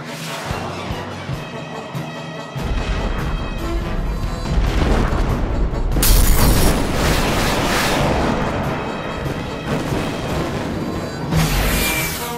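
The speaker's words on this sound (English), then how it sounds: "I see we fire more missiles at its nose!" Missiles launch and blow up in an animated mecha show: a loud, sustained barrage of booming blasts and rumbling explosions, swelling midway and rolling on continuously with no talk.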